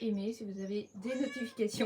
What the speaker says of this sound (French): Vous entendez mon chat qui vous dit bonjour.